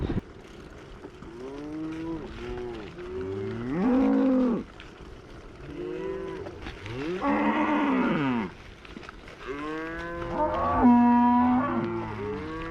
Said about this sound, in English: I got stuck in the middle of a cattle drive and had a confrontation with a bull